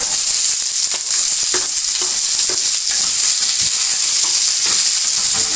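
Garlic and then onion frying in hot oil for a pickle, a loud, close, continuous hissing sizzle with stirring scrapes and crackles throughout and no talking.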